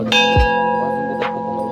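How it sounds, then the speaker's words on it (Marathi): A large bell at a Mahadev temple in Ranjani is struck twice, about a second apart, and its loud, close, metallic tone rings on and sustains between and after the strikes. "हे मोठा घंटा आहे भावांना महादेवाचा सर्वात मोठा घंटा आहे"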